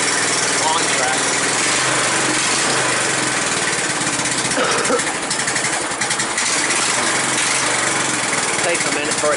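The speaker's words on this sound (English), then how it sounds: "For a damn one-cylinder lawn tractor." A one-cylinder lawn tractor engine idles steadily and loudly at close range, with a vibrating chug throughout.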